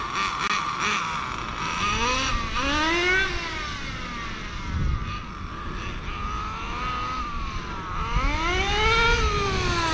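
A nitro-powered 1/10 HPI RS4 3 RC drift car runs close by, its small engine buzzing loudly in rising and falling revs with repeated whining sweeps as the throttle is blipped, continuous throughout.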